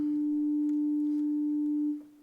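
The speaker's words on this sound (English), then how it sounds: "So sine wave." A steady pure sine tone from a Joranalogue synthesizer module holds one pitch, with a fainter higher partial alongside, then drops in level near the end as the signal is switched.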